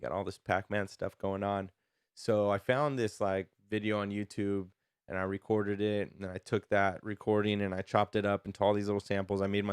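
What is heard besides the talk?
No distinct noise like a dog, phone or traffic.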